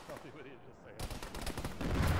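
Gunfire in the ShackTac military video game: bursts of automatic fire and rapid shots, close and loud, growing denser and heavier toward the end with a voice briefly audible between them.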